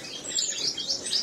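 Aviary birds, including Gouldian finches and parrots, call close by in a dense run of high, repeated chirps and tweets with no talk.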